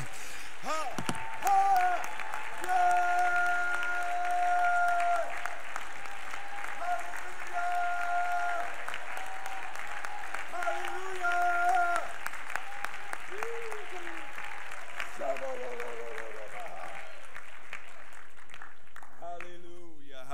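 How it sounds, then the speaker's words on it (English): Sustained applause from a large congregation at a missions conference fills a big hall for around fifteen seconds, loud and steady, then gradually thins out toward the end, with a voice sounding through it in places. "would you let your voices be louder than your applause right now?"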